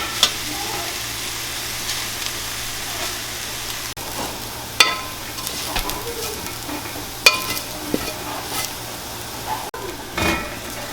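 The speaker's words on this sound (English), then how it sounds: "Make it round, like stir around the pan." Chili and garlic fry in a pan while being stirred, a steady close sizzle broken by occasional scrapes and clinks of a utensil against the metal.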